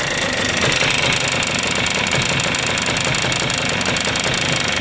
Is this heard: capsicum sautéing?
no